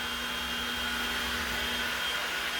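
A CNC machine carves a sign in a garage, giving off a steady, loud whirring roar with a constant high whine from the spindle and dust extraction, continuous and with no talking.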